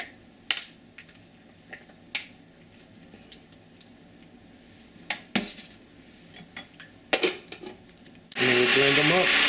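Cooked chickpeas clink and rattle as they are loaded into a small blender, with scattered clatters, before the motor kicks in with a loud, steady whirring grind at the end.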